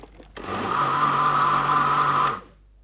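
Blender mixing a strawberry drink sweetened with honey and blended with ice, a steady loud whirring roar that starts abruptly, holds for about two seconds and cuts off cleanly, with no talk.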